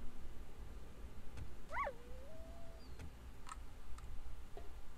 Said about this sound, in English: A dog. That's probably a coyote.